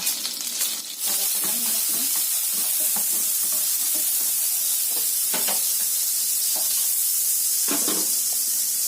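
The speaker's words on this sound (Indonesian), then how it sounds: "Kemudian pako yang sudah saya iris tipis-tipis begini, ini kita goreng." Thinly sliced pako fern fries in margarine with a loud, steady sizzle, broken by occasional stirring scrapes in the pan.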